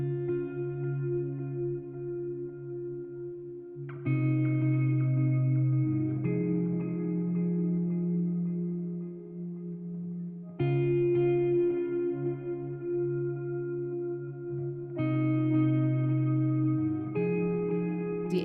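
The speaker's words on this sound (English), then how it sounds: "The echo is beautiful." Post-rock band playing live, with sustained guitar chords drenched in echo and reverb, swelling in layered sections over a steady bed of distorted tones, loud and continuous with no voices.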